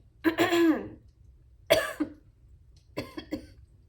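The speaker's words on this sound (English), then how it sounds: "I feel a cough coming on." Three separate coughs, close and fairly loud, with short quiet pauses between them; the last one breaks into a couple of quick bursts.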